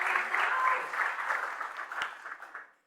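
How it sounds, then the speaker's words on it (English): A sold-out crowd at a history talk celebrating McMenamins' 40th anniversary breaks into applause, a close, full burst of clapping that thins and tapers off to silence. "Give yourself a round of applause."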